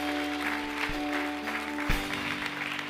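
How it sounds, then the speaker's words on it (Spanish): Worshippers at a Spanish-language church service applaud, a moderate clapping texture over sustained steady keyboard or organ tones, with a couple of brief thumps. "Dele fuerte ese aplauso a Él."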